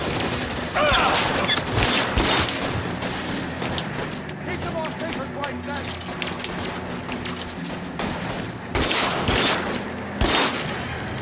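Gunfire in the crime video game L.A. Noire, with rapid volleys of shots in several loud bursts over about eleven seconds. People shout and talk throughout.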